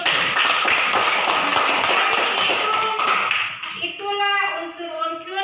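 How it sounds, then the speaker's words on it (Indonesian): A classroom of children applauding, rapid dense clapping for about three seconds before fading out, followed by voices and singing-like children's speech. "Berikan aplaus dulu."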